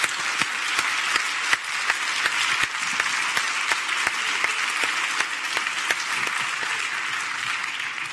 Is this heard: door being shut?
no